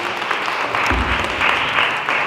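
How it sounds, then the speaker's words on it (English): A crowd at an Africa Expo applauds as dancers take their places, a brief, steady wash of clapping at close range with a low thump partway through. "So you guys give them a round of applause as they get together in their places."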